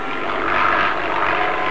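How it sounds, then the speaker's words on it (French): A propeller airplane drones overhead over open sea far from any coast, a steady, loud engine hum that swells slightly and holds throughout without voices. "C'est un avion!"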